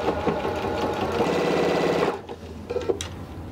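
A sewing machine stitches a quilt strip onto fleece in a steady, fast mechanical whir for about two seconds, then stops, leaving a few small clicks and handling noises close by.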